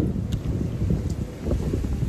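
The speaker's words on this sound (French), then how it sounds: "Le vent va nous transporter." Steady outdoor wind buffeting the microphone, a continuous low rumble with slight gusting swells, no voices.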